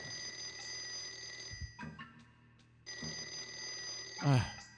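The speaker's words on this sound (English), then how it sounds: "The fucking phone is ringing." A telephone rings in repeated electronic bursts separated by a short gap, with a brief voice or noise at the end.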